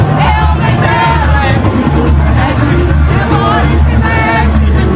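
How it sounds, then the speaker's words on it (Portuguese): A large crowd roars and chatters at a samba school parade of Grande Rio in the Marquês de Sapucaí sambadrome, a loud, dense, continuous wash of voices and cheering. "Abre o microfone para te ouvir aí o delírio do público."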